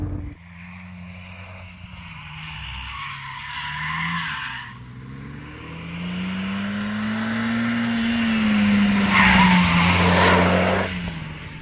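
A Renault Mégane R26R driving hard on a race track, engine note rising steadily as tires squeal and skid in a long continuous howl, fairly close and loud, no voices.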